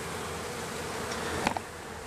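Honey bees swarm with a steady, close buzzing hum while a box of bees is hived, with a couple of sharper near passes as individual bees fly by the ear.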